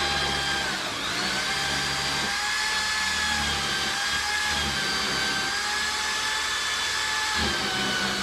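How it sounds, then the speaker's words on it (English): A power drill cuts a hole through material, giving a steady, loud motor whine throughout with slight dips in pitch as the bit is guided. No one speaks. "I'm letting the drill do all the work."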